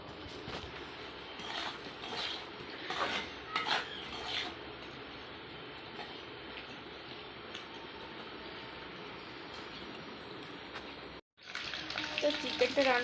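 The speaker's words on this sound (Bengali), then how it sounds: "সব দিয়ে দিয়েছি, এখন এটা ভালো করে কষিয়ে নেব" Chicken sautés in a pot over a clay stove, a steady close sizzle with clattering stirs early on, a brief cut near the end, then sizzling resumes louder.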